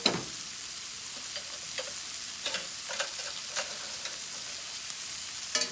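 Cabbage fries and sizzles in a pan alongside pork chops, a steady close hiss with occasional soft stirring clicks and pops throughout, no talking.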